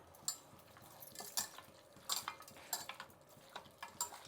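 Mutton is mixed with turmeric, salt and ginger garlic paste for a large batch of biryani, producing irregular metallic clinks and scrapes of a utensil against a vessel, close and moderately loud.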